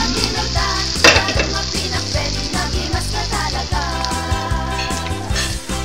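An eggplant omelette with ground meat fries in a pan, a constant loud sizzle with occasional utensil scrapes as it is turned, set against a steady tonal background.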